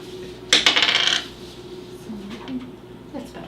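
An eight-sided die clatters onto a table during a tabletop role-playing game session, a sharp bright rattle lasting about half a second, followed by quiet room noise and a few faint murmurs.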